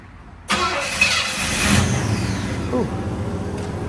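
A Pontiac Trans Am engine starts abruptly with a loud catch, then settles into a steady rumbling idle with a slight rev, close by and alone.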